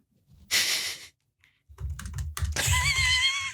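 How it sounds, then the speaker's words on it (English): Rapid typing on a computer keyboard in close, busy bursts, with a brief pause in the middle before the clatter resumes. "furiously typing to his children for the listening audience"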